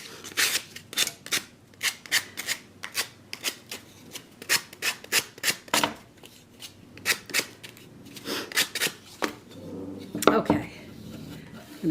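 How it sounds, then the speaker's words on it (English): Sandpaper rasps repeatedly over the rough edges of an abstract cubist stocking sculpture, giving a run of short close strokes in an uneven rhythm with a few louder scrapes near the end. "So I'm going to sand the rough edges off"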